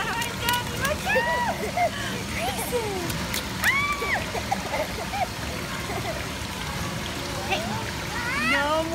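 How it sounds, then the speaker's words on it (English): A child splashing water outdoors, with irregular bursts of splashing mixed with high bird chirps and a steady running-water backdrop, and voices talking over it. "You stop splashing, okay? No more splashing."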